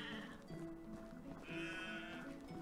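Sheep bleat in Medieval Dynasty during winter, two drawn-out nasal bleats at the start and again in the second half, heard over a low background bed with no talking.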